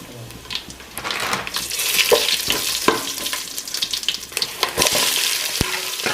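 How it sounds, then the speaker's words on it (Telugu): Cinnamon and cloves sizzle loudly in hot oil in a pot for Telugu-style bagara rice, with stirring and clinks of utensils against the pan. "నూనె వేస్తాండా, చెక్క లవంగాలు వేస్తాండా, కస్తూరి మెంతాకు వేస్తాండా"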